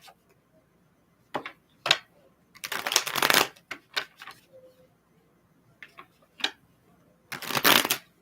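Tarot cards are shuffled in several separate bursts of crisp riffling and flicking, close and clear against near silence, with short pauses between bursts.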